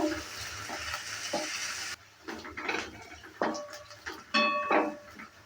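Garlic and onion frying in a pan for a jute leaf dish, a steady close sizzle with intermittent scraping stirs and a brief pause partway through.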